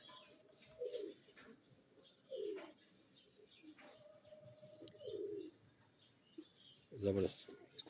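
Teddy breeder pigeons coo softly nearby. Four or five short, low, throaty coos are spaced a couple of seconds apart over a quiet background.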